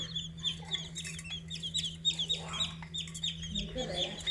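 Busy clucking and peeping from chickens, with high chirps of small chicks over lower hen clucks and a steady low hum beneath.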